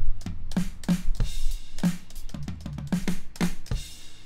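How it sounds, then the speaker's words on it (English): A MIDI drum fill of rapid tom hits and crashing cymbals rolls along in an uneven burst, punchy and close, with no one speaking. "add a drum fill on the three, between 3 and 4"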